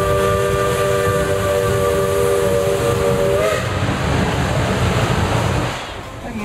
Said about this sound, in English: the engine has blown a large cloud of steam off the left side of the engine